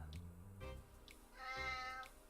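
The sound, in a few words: cat meowing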